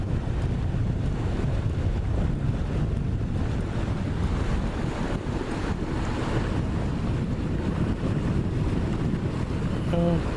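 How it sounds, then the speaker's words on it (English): A boat motor drones steadily while cruising on open water near Roche Harbor and Sucia Island, a constant low rumble mixed with wind buffeting and splashing water. "They might have heard our motor"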